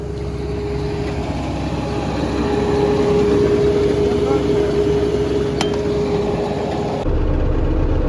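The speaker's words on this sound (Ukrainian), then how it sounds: "зараз сідаю в трактор цей" A heavy tractor diesel engine runs steadily with a low, constant rumble and hum, close and loud, with the seeder lowered for sowing corn, then cuts to a deeper tone near the end.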